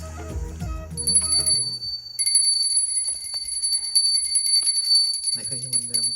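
Small temple bells brought from Jalpa Devi ring indoors in a new home, giving sustained, bright, shimmering high tones that carry on after a brief low voice at the start, with a voice returning near the end.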